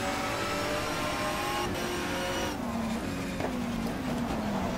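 Race car engine held at full throttle in the racing game GTR 2, a loud continuous high-revving drone with a rising and falling pitch, steady throughout and with no talk.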